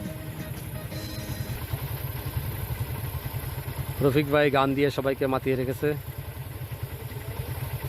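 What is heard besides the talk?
motorcycles being started and idling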